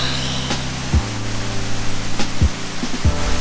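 Steady roar of a waterfall at a rope-swing spot in Bohol, Philippines, a loud continuous wash of falling water with a few low thumps over it, no speech.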